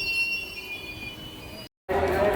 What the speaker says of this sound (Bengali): বন্ধুগণ এটি হচ্ছে হাজারদুয়ারি এক্সপ্রেস